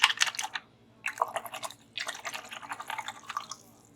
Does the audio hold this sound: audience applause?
no